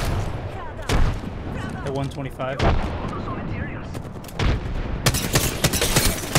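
Dense Apex Legends gunfire in an arena match, with repeated sharp shots and heavy booming impacts over continuous noise and a rapid volley near the end, while players talk throughout.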